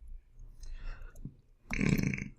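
One loud, low, rumbling burp near the end follows a quieter stretch of breathy voice sounds.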